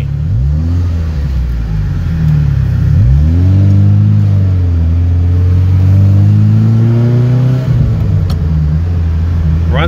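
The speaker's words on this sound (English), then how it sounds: "we're going for a test drive on the Ferrari." A 1988 Ferrari Quattrovalvole cabriolet on a test drive, its engine revving loud and close through repeated rising gear pulls, each sweep climbing in pitch before dropping at the shift.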